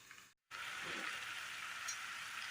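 Curry bubbling steadily in a pan, a dense continuous sizzle with a brief silent gap near the start, close and fairly loud with no talking.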